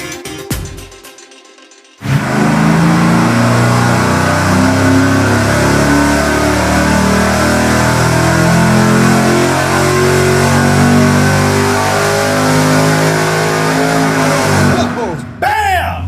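A supercharged stock engine making a dyno pull with a smaller 4-inch boost pulley roars loudly and steadily for about thirteen seconds, rising in pitch under load, then cuts off sharply.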